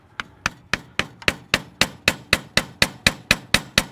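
A hammer strikes a screwdriver while working on the fuel setting of a New Holland TL-90 diesel turbocharged tractor, about fifteen sharp metallic blows in an even, quick rhythm, loud and close with no voices.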